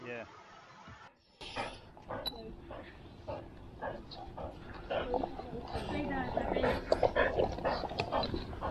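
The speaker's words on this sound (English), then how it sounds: "Zeb, the border collie, realises he's got to swim past the swans and doesn't really fancy it" A border collie whimpers and yips near a boat by water with swans, thin whines rising over a steady outdoor background with engine-like rumble and faint talk, close and moderately loud.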